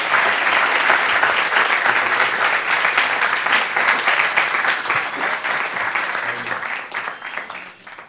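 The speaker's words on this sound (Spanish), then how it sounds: "vamos a brindarles otro aplauso" An audience at a university event applauds a doctor after a speech. The dense, steady clapping fills the room for several seconds, then tapers off and fades at the end.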